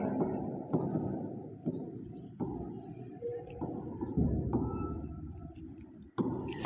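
Chalk or marker strokes on a board, a series of short scratchy taps and scrapes at an irregular rhythm, fairly faint, with a quiet room behind.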